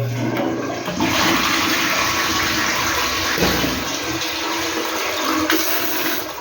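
Fresh water gushes steadily into a newly fitted ground-floor bathroom of a house, the supply pumped by a motor, a loud, continuous rushing flow like a flushing toilet with no talk over it.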